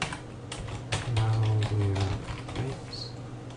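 Keys clatter on a computer keyboard in quick, uneven bursts during a scheduled-scan setup in Malwarebytes, with a voice speaking briefly over the typing.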